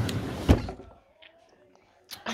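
A bedroom drawer being opened or closed, giving one sharp knock near the start, then a quiet stretch before a louder scraping burst at the end.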